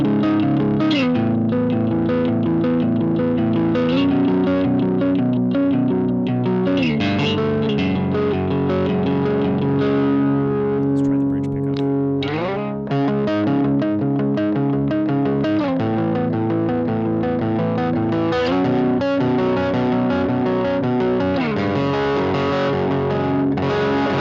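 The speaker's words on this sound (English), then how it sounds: "Let's try Modern Overdrive" Electric guitar played through a Boss GX-10 on its Modern Overdrive setting, a continuous heavily distorted metal-style riff with chugging chords and shifting notes, loud and dense throughout.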